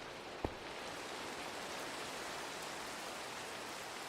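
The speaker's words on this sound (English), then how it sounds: "Like the rain is very low pitch" Steady low, muffled rain in Minecraft with a sound physics mod, a continuous dull hiss with one brief tap near the start.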